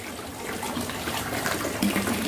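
A small 8-watt solar-powered water pump for a hydroponic setup, running off a 220 WP solar panel without an inverter, gives a steady, strong gush and spray of water throughout, close and continuous with no talking.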